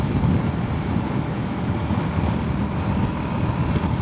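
Steady rushing wind noise buffeting the microphone while riding a motorcycle, a dense continuous low roar with no talk.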